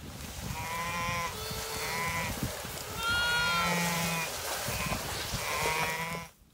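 A ewe bleating at a farm milking stand during lambing of triplets, with repeated clear, wavering bleats in short bursts, fairly close, while a person talks quietly underneath between calls.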